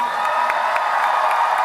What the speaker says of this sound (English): Another round of applause for all of these youth.